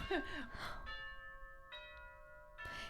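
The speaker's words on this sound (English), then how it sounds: "That's our doorbell. It's like a wedding chime." A home doorbell rings a wedding-style melodic chime of sustained bell tones in a short sequence, preceded and followed by brief sighs and breathy voices.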